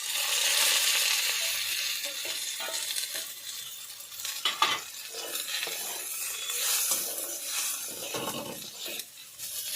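Vegetables frying in a pan with ground turmeric, red chilli and coriander powder, being stirred steadily; a continuous close sizzle with scraping and clinking of the spoon against the pan, no talk.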